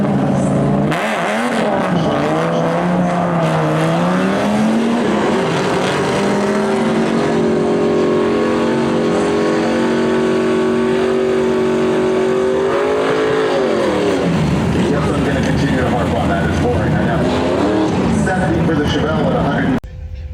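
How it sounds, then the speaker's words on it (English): A 1968 Chevrolet Chevelle at a drag race revs hard and accelerates, its engine note sweeping up through gears, then fading and returning in a loud continuous run while someone talks over it. "Justin Kramer, silver Chevelle, it's 1968 model."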